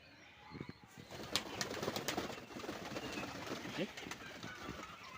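Lakka pigeons coo softly in a loft at close range, with repeated low rolling calls and light rustling while someone talks over them.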